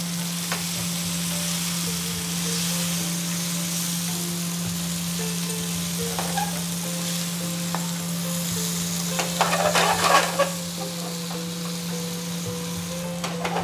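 Stuffed okra (bharli bhendi) fries in a pan with a steady, close sizzle and a constant hum beneath, and a brief burst of scraping and clatter as the pieces are flipped partway through.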